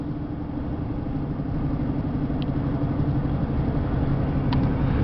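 Steady road and engine drone from inside a Chevy Cavalier cruising on the highway, a continuous low rumble with tire noise and no talking.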